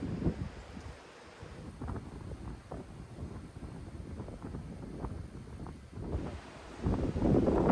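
Stiff outdoor wind gusting across a microphone at a storage garage build site, rumbling and buffeting unevenly and swelling louder toward the end, no talking.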